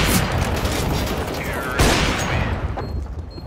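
Gunfire in a mobile battle-royale style shooter match, a dense, loud burst of shots with a sharp boom near the middle, continuous and close.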